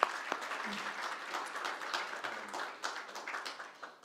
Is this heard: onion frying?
no